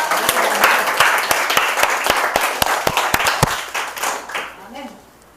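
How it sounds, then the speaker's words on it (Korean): A church congregation claps and applauds together, a dense burst of hand claps with sharp individual slaps, fading out toward the end. "우리 하나님께 영광의 박수 올려드리겠습니다."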